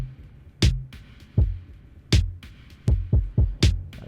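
A modular-synth drum beat fed through a Dirty Murals delay module, with punchy kicks and crisp hits repeating in an uneven pattern, each one trailed by short echoing repeats, loud and close with no talking.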